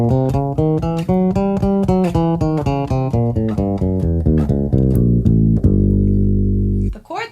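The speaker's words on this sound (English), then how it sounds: "So I want to play you the scale that is written out on page 30." A bass guitar plays a diminished scale, not starting on an open string, one clear note at a time in an even ascending then descending run, close and prominent, ending on a long sustained low note.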